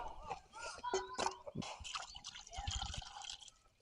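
Water dripping and being poured out on a farm outing, with small splashes and trickles heard close by, faint overall and mixed with brief quiet voices.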